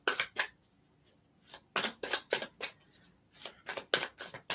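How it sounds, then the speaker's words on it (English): A deck of tarot cards is shuffled close up in a quiet room, with repeated crisp riffling bursts and short pauses between them. "So let me really shuffle them up."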